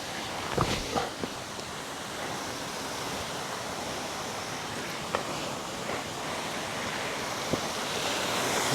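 Waterfall near a riverbank, a constant broad rushing roar with a few faint clicks and knocks early on, steady throughout with no voices.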